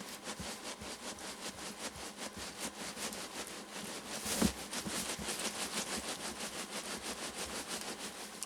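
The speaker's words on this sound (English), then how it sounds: "what you're hearing is movement of the machine inside." A machine shifts and rattles inside a cardboard box as the box is jiggled, giving a steady, faint scraping and shuffling noise with one slightly louder knock partway through.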